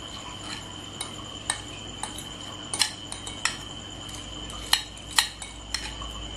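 A utensil stirs a banana mixture in a non-stick Teflon pan, producing intermittent scraping clicks and light metallic taps at an irregular rhythm, close and fairly quiet with a faint steady background hum.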